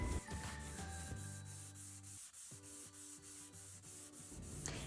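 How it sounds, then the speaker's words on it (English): Stained wood dining table being sanded by hand, a quiet, steady rubbing rasp that repeats in even strokes, with a faint musical tone carrying along underneath. "once you sand over some of that stain to lighten it up a little bit"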